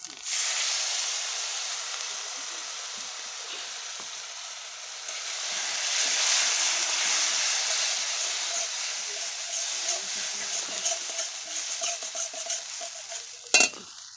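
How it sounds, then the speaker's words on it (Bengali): Masala with ginger paste and poppy seed paste sautéing in hot oil for hilsa malai, giving a steady, close sizzle and hiss that swells midway, with a sharp utensil clink near the end and no talk. "মশলাটা আমার কষা হয়ে গিয়েছে এবারে হালকা তেল ছাড়ছে"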